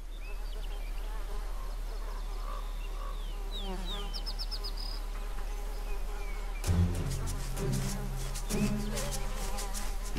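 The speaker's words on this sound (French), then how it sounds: "des mouches repèrent la charogne recouverte d'herbe qui lui sert d'oreiller" Flies buzz close and loud around grass-covered carrion outdoors, a continuous droning hum with shifting pitch, joined by sharper insect passes and a denser burst of buzzing in the second half.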